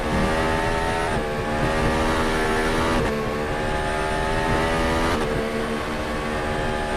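Race car engine on a Q2 qualifying lap in a racing video game, a loud continuous high-pitched whine climbing through the revs, with brief dips at each gear shift about every two seconds.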